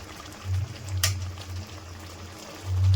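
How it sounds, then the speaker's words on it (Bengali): Ghee goes into a pan of doi chingri, prawns simmering in yoghurt, giving a soft low bubbling and sizzle with a brief brighter crackle, quiet and close, no talk. "এবার একটু ঘি দিয়ে দিচ্ছি,"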